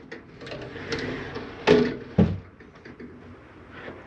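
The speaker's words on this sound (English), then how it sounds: "Just want to make sure that you close your closet doors for travel." Two closet doors shut in quick succession in the bedroom of a 2021 Forest River Arctic Wolf 3660 RV, sharp close thuds over a quiet room.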